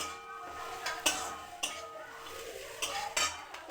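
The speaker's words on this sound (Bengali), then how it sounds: "একটু পেঁয়াজটাকে লাল লাল করে একটু ভেজে নিচ্ছি।" Onions fry in a pan for a home-cooked dish, with soft sizzling under several sharp clinks and scrapes of a spoon stirring against the metal.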